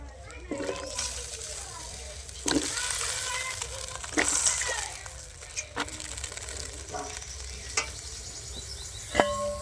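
Green flat beans go into a hot pan, giving a moderate sizzle and clatter of stirring over several seconds with a few sharp scrapes, while a voice talks faintly in the background.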